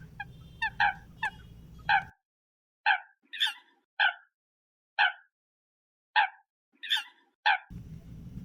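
A coot gives a series of loud, sharp croaking calls, roughly a dozen short bursts spaced irregularly, close and clear against near silence.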